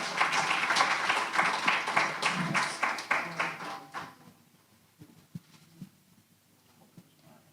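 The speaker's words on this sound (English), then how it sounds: "let's give a round of applause for our fathers" Audience applause for fathers at a parent symposium, a few seconds of moderate clapping that fades out, leaving scattered taps and room noise.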